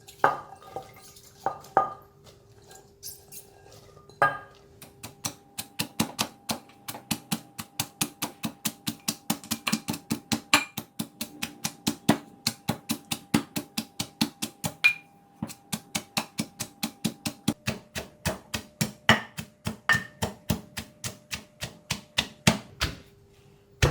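Green beans and shrimp paste pounded in a mortar for a Thai green bean salad (tam tua), a steady run of sharp, close thuds repeating quickly for most of the span after a few sparse opening knocks.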